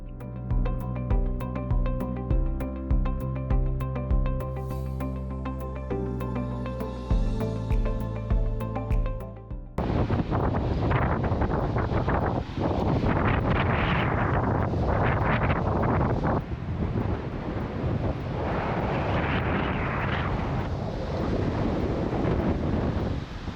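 Strong wind on a Scottish beach roars and buffets the microphone continuously, with a rushing surf-like noise, after a brief stretch of music at the start.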